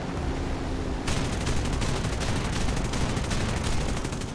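Aircraft cannon fire from a P-63 in War Thunder: after a second of steady engine drone, dense rapid bursts of gunfire crackle continuously and loudly, with no voices.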